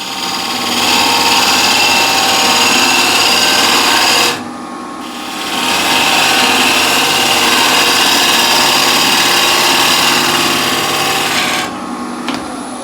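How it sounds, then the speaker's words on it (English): A sharp gouge sharpened on a 60-grit grey wheel takes a shear cut across a wooden top on a lathe, a steady close rasping scrape running almost continuously with one brief pause midway and a tail-off near the end. "So again, I'll use it on this top, and I'll make a nice shear cut."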